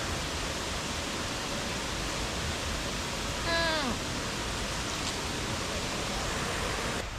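A waterfall in Bali roars as a constant, dense wash of rushing water, loud and unbroken throughout, with a brief high bird chirp cutting through near the middle.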